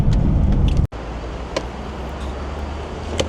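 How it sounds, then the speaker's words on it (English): A BMW F10 M5 idles at a gas station, a steady low engine hum with a broad rumbling noise floor, briefly cut out once near the start before continuing evenly. "thankfully the car's on now and is running"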